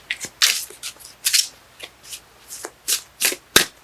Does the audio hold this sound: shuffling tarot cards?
yes